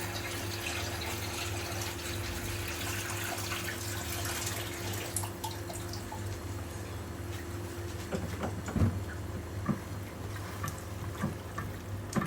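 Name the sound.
water poured into a cooking pot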